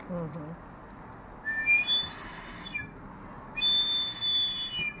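Two long, high whistling tones sound in turn, steady and moderately loud over a quiet background, with a brief voice at the start.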